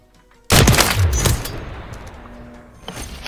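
A sniper rifle shot in the video game Call of Duty MW3 cracks loudly from near silence and booms into a long rolling decay, with a faint extra thump as it fades.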